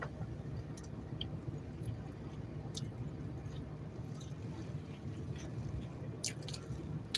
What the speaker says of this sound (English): Let me chew this right quick.